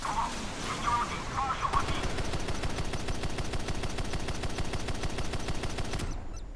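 An MH-47N Chinook helicopter in the naval combat game Modern Warships fires its guns at the battleship Yamato, a loud sustained burst of rapid automatic gunfire that runs steadily for several seconds before cutting off abruptly.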